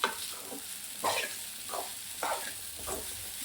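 Sabudana khichdi with peanut powder, chilli and salt being stirred in a pan, a soft steady sizzle with several scraping stirs recurring about every half second to second.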